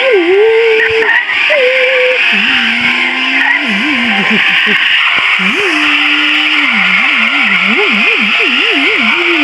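A car engine in Sakura School Simulator drones steadily, its pitch sweeping up and down as it revs and shifts, over a constant loud background of game noise and music.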